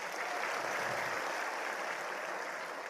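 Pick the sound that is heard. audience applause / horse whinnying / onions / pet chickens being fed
audience applause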